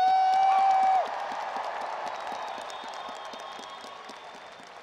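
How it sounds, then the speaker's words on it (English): Graduates at an engineering convocation ceremony burst into dense applause and cheering, a sustained wash of clapping that starts after a brief tone and slowly tapers in loudness. "Give yourself another hearty shout of victory and congratulatory applause."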